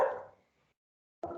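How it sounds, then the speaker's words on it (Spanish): Pet dogs barking indoors at home during an online lecture, one loud bark fading out at the start, then a short silence, then another sharp bark cutting in at the end. "mis perros se pusieron loquitos"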